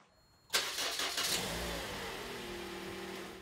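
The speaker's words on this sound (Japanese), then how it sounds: "めちゃめちゃかかりが弱いのお分かりいただけたかと思います。" A car engine starts on a battery that has gone flat several times: a short, labored crank and then a loud catch and rev that settles into a steady idle, close by, with no talk.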